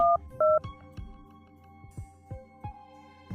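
A short run of telephone keypad tones, two clear beeps followed by softer button presses, close and isolated in a quiet room.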